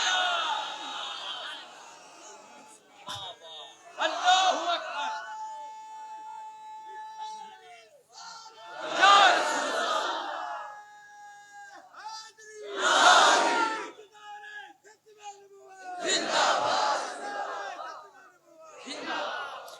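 A crowd at a religious gathering shouting slogans in call-and-response bursts, loud group roars separated by a lone voice leading each chant.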